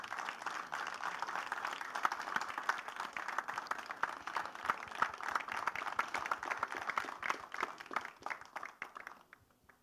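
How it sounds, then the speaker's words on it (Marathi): An audience at a Marathi film trailer launch claps hard for several seconds, a fast, crisp patter of many hands heard from some distance that thins and fades out at the end. "एकदा जोरदार टाळ्या झाल्या पाहिजेत"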